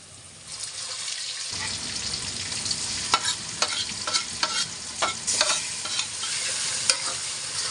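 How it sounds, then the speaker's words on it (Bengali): Turmeric, chili powder, garam masala and salt fry in a pan with browned onions, giving a steady close sizzle with repeated stirring scrapes and clacks; a faint running-water hiss sits in the background, and no one speaks. "হলুদের গুঁড়ো, মরিচের গুঁড়ো দিয়ে দিলাম, গরম মশলার গুঁড়ো, স্বাদ মতো লবণ দিয়ে এটাকে আরেকটু ভালো করে ভেজে নেব যাতে মশলাগুলো কষে যায়।"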